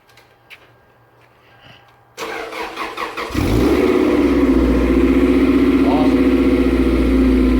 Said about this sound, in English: We're going to do a cold start on the midship runabout.